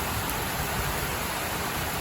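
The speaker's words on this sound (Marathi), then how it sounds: "तुम्ही बघू शकता पाऊस किती जोरात वाढलेला आहे." Heavy rain pours down in a dense, steady broadband hiss that fills the whole stretch without a break and without any voices.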